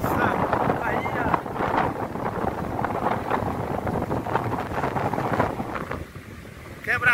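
Coastal wind blows at Guaibim beach in Valença, Bahia, a steady loud rushing buffeting the microphone throughout, with no voices.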